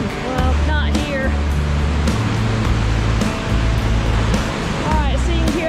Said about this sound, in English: you can hear the rush of the water as we're going down the trail